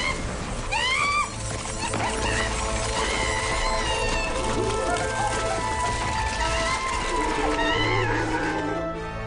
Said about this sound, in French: Ah, c'est encore la table qui chante.